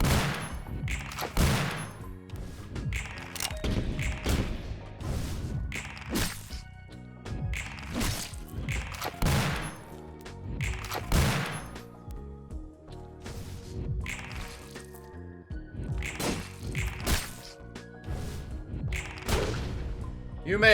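Gunfire in the video game Library of Ruina: a long run of sharp shots and thwacks, firing in quick bursts with brief gaps over roughly twenty seconds, at moderate loudness.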